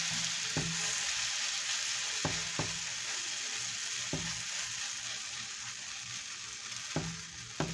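Buttered bread frying on medium heat in a hot pan for frog-in-a-hole eggs, a steady broadband sizzle running throughout with a few sharp utensil clicks against the pan.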